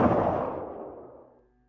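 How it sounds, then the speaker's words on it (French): A single loud gunshot inside an examination room in a horror story fades out in a long, echoing decay that dies away to silence. "Deux coups de feu retentissent à l'intérieur de la salle d'examen"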